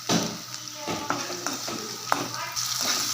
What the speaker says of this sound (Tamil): தக்காளி இதிலேயே நல்லா எண்ணெயில் வதங்கட்டும்